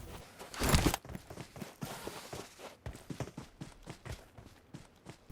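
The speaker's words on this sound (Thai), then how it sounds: "แล้วมีเสียงเท้าหลุดอยู่ข้างบนครับ" Footsteps on the floor above in PUBG Metro, a fast run of regular soft thumping steps at a steady rhythm following a loud burst at the start, moderately close and heard without talk.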